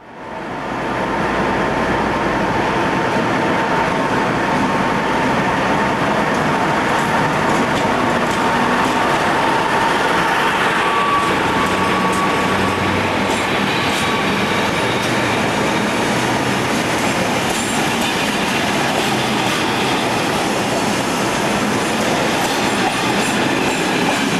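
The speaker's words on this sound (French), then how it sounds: "Une pure CC diesel de la DR, immatriculée maintenant 232 sous l'aire de la Deutsche Bahn, va partir avec une rame omnibus en direction de Kassel vers l'ouest" A former DR class 232 Co'Co' diesel locomotive, now run by Deutsche Bahn, departs a station in the Harz with a local passenger train. Its loud, steady engine roar and rolling rail noise carry on throughout.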